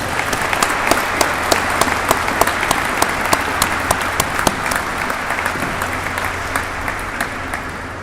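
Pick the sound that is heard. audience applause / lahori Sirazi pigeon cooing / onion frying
audience applause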